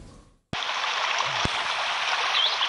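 A waterfall about 100 metres high at Tifrit in Saïda province, Algeria, roars as a steady, broadband rush of falling water, with a distant murmur after an abrupt cut.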